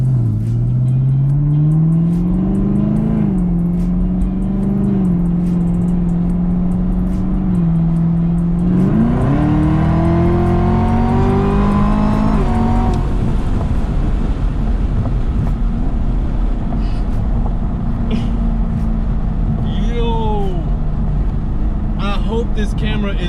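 Supercharged Camaro ZL1 V8 fitted with a Roto-Fab cold air intake, revving up and down in rising and falling pitch sweeps, loud and close, then settling into a steady idle rumble with a voice talking over it.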